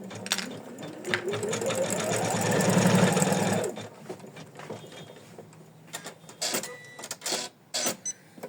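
An embroidery machine stitches a felt applique tulip heart design in the hoop, a fast rhythmic whirring run of needle strokes for a few seconds, then stopping, followed by scattered clicks and handling noises.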